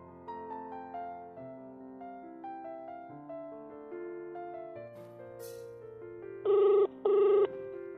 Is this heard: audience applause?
no